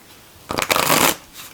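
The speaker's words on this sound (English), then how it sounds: "So they'll riffle shuffle nicely." A tarot deck printed on light, fairly matte cardstock of about 300 GSM is riffle shuffled once, giving a quick, crisp, close flutter of cards lasting about half a second.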